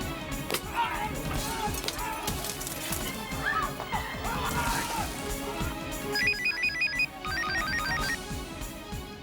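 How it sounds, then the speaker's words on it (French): Telephone ringing in a drama scene, an electronic ring in two short trilling bursts late in the clip over busy background noise and faint movement, with no clear talk. "Oui, allô, Karuna?"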